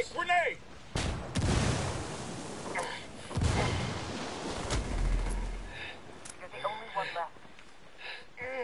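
Booming explosions in a video game firefight, with two big blasts and a later rumbling detonation among scattered gunfire, while someone speaks between them.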